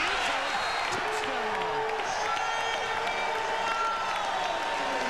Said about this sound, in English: the Rouge are striking first and bringing their crowd to its feet